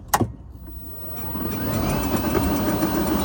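An electric golf cart fitted with a Curtis controller runs at full throttle, its motor whine sweeping upward in pitch and then holding a steady high tone over a constant rolling rumble.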